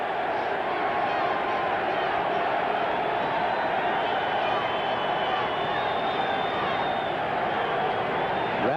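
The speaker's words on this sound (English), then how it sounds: "sellout crowd here at Veterans Stadium, enjoying the work of their defense" A sellout crowd of Eagles fans roars steadily at Veterans Stadium during a 1992 Giants game, a dense, sustained wall of cheering with no breaks.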